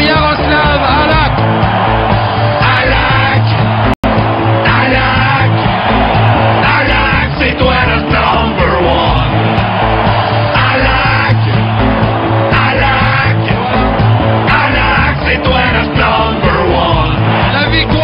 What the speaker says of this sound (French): La foule se lève encore une fois pour Yaroslav Halak